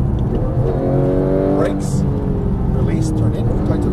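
Porsche 911 GT3 (991) on a Las Vegas race track, its engine droning steadily and close throughout with rising harmonic pitch as it accelerates, while an instructor talks over the cabin noise.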